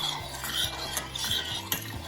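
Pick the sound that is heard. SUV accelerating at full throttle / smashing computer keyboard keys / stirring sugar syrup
stirring sugar syrup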